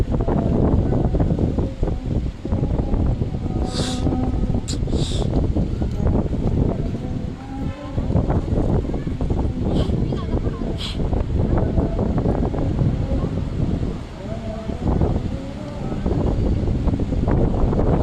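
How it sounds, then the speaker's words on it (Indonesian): Strong wind buffets the microphone at a seaside park beside the floating mosque in Parepare, South Sulawesi, a steady loud roar with gusty rumble throughout and faint distant background sounds. "angin di sini cukup kencang ya Tribuners."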